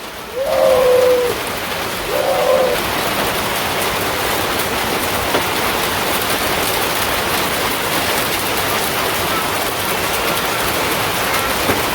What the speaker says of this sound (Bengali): বৃষ্টির শব্দে মনে হচ্ছে টিনেরই ফোটা হয়ে যাবে ওইরকম